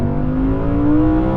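A rear-wheel-drive Audi R8 engine drones loudly and steadily up close, its rising pitch suggesting climbing revs through the mid-range, with no voices over it.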